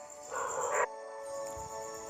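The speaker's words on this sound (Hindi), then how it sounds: "पीछे डॉग्स के भौंकने की आवाज़ आ रही है," Dogs bark and yip in a short burst, moderately loud, followed by quieter background noise and a faint low thump.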